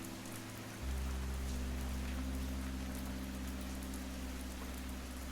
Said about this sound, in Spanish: La lluvia comenzó a caer con furia